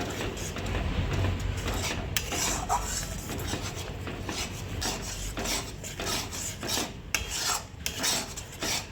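A spoon scrapes and rubs steadily through cashew and poppy seed paste in a pan while cooking potol korma, a continuous soft rasping with occasional sharper clicks against the pan, no voices.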